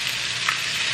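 Two eggs frying in a pan with translucent onions for fried rice, a steady bright sizzle, close and continuous over a brief moment.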